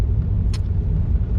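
Cars struggling through a snowstorm in Queenstown: a steady, heavy low engine rumble throughout, with one brief hissing burst partway through and no talking.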